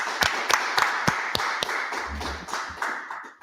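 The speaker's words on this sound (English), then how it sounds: "So clap it up." A congregation gathered for the Feast of Unleavened Bread claps together in a steady rhythm of sharp, evenly spaced hand claps, close and clear, with a brief low murmur partway through.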